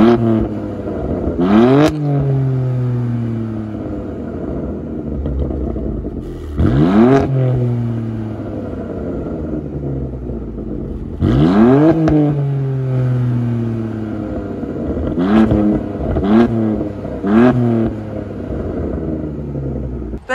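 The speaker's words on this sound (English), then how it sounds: "We're gonna hear some crazy revs from Daryl's car" Car engine revving hard through a loud aftermarket exhaust, several sharp blips rising and falling with idle rumble between, close and loud with no talk.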